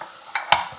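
Chopped onions and green chillies dropped into hot oil in a home kitchen, giving two short sizzling bursts with a stir in between, brief and close.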